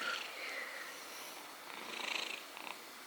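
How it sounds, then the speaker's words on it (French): A cat purrs close to the microphone, a soft continuous rumbling drone that swells slightly toward the end, with nothing else heard over it. "Je sais pas si vous entendez ces ronrons là."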